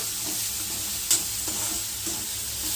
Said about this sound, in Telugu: అల్లం పేస్ట్ అయితే మంచిగా కలిసిపోయేదానికైతే వేయించుకున్నాము.